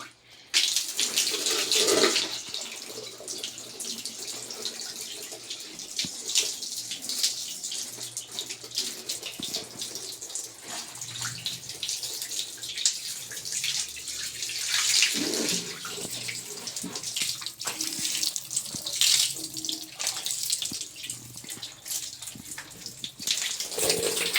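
Running water pours steadily while dirty bathroom and kitchen tiles are washed down, a continuous close splashing gush with faint swells and no speech.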